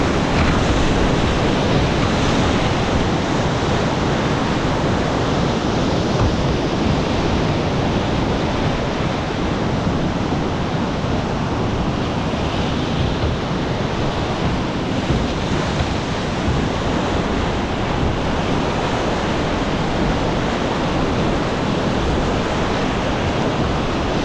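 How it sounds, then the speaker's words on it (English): Whitewater rapids on the Selway River in Idaho at high water during a May rafting trip roar in a constant, dense wash of churning water, loud and unbroken with wind buffeting the microphone and no voices. "As I come up on this third drop in Little Niagara Rapids, I can't see this hole until I'm right on top of it."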